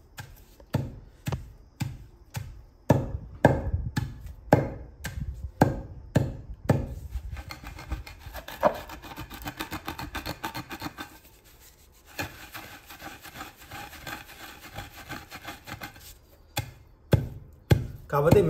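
Chutney (nalla karam) is pounded in a stone mortar with a steady run of heavy thuds, then a stretch of softer grinding and rubbing before the pounding picks up again near the end.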